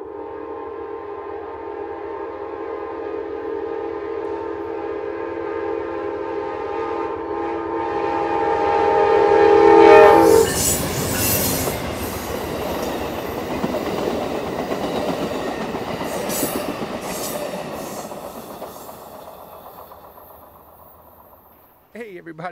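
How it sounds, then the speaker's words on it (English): A long train rolls past on railroad tracks at a station in Brunswick, its horn sounding loudly at first, then a steady rumble and clatter of wagons swelling close by and slowly fading away. "There's a train coming"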